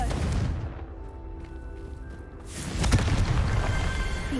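A Confringo fire spell cast in Hogwarts Legacy on PS5 erupts as a sharp, loud burst midway through, followed by a rumbling blast over a steady game-ambience bed.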